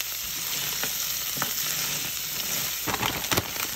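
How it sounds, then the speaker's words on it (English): Blue crabs stir-fried with browned ginger and garlic in a hot pan, a steady close sizzle broken by clattering knocks of shells being tossed and stirred, louder scrapes toward the end, no voices. "Add the crabs and stir fry."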